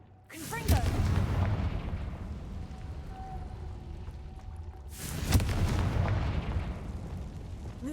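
A Confringo fire spell from the Hogwarts Legacy video game bursts twice, each a loud booming explosion with a rumbling tail, the second blast about four seconds after the first.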